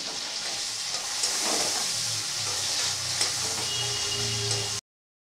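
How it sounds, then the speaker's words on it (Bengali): Onions sizzle and fry steadily in hot oil in a pan for a Bengali dish made with prawns, a continuous close crackling hiss with no talking. "পেঁয়াজটা একটু ভেজে নেব।"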